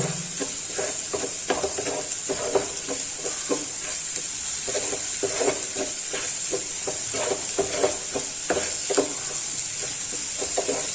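Spiced eggs for akuri sizzle steadily in a hot pan while a spoon stirs them in repeated scraping strokes, close and continuous, with no talking.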